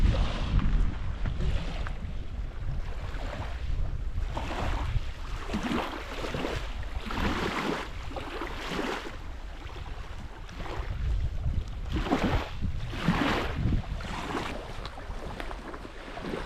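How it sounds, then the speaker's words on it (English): Steady, gusty wind roars across the microphone by a lake, a broad rushing noise that swells and fades in waves with no voices. "it's a bit windy"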